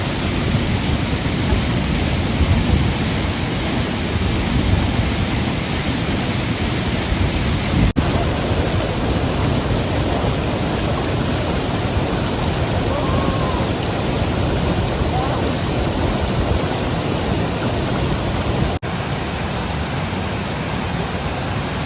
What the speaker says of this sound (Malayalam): ഇതാ വെള്ളച്ചാട്ടത്തിൻ്റെ മുകളിലത്തെ വെള്ളച്ചാട്ടം കാണുന്ന കേട്ടോ ഈ കാണുന്ന വെള്ളച്ചാട്ടം